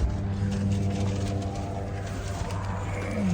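A pickup truck's engine idles steadily with a low droning hum and shifting harmonics, building slightly at the end as it begins to pull away, with faint outdoor ambience and no talk.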